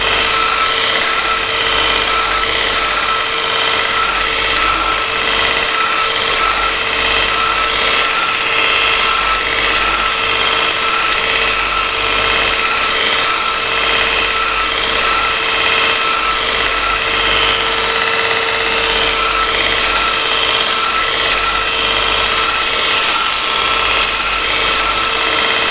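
A surface grinder flattens and tapers a steel knife tang, giving a steady, loud abrasive hiss with a constant motor hum and a rhythmic swell and fade as the table passes back and forth, with no voices.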